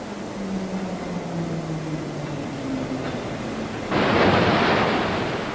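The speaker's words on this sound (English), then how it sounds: "When the carriage runs, the flap, as illustrated in the diagram, leaves a train of waves in its wake." Waves trail behind a wave-making flap towed by the carriage in a ship model test tank, a low sweeping hum giving way to a sudden broad wash of water noise near the end.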